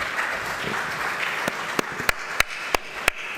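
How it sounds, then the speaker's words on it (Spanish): A symposium audience applauds the mayor of Sot de Ferrer, with a brief spread of clapping followed by a few sharp, isolated claps that ring out near the end. "Agradecemos su presencia y un fuerte aplauso."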